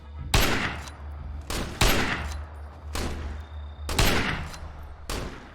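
Sniper gunfire in State of Decay, five loud, sharp shots roughly a second apart, each with a ringing tail over a low hum.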